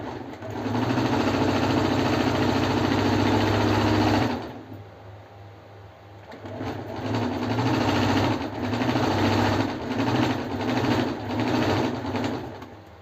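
Sewing machine stitching a straight seam along a marked line, a steady rapid mechanical whir that runs for several seconds, pauses briefly, then resumes in short on-off bursts.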